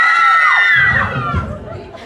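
A crowd of young voices yells together in a loud, sustained team shout that swells and then trails off into scattered cheering.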